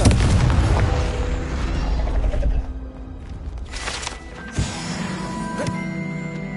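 A Confringo blasting spell from Hogwarts Legacy erupts in a loud, close explosive boom, followed by rumbling debris and a second smaller blast amid game effects.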